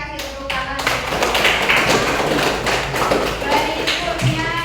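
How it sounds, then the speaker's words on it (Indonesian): A classroom of students claps together in applause after a group activity, a dense, steady burst of many hands that fills the room, with a few voices mixed in underneath. "Oke, kasih tepuk tangan."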